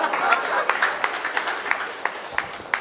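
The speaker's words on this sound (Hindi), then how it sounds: "अबे ताली कौन बजाएगा यार?" Scattered audience applause at a medical lecture on asthma, thin and brief, a few claps rising over room murmur and a voice.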